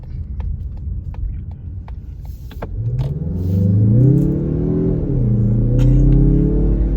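A 2023 Mazda CX-30 accelerates hard on a night highway, heard from inside the cabin as the engine note climbs in pitch, drops at the upshift and then rises again over a loud, steady road rumble.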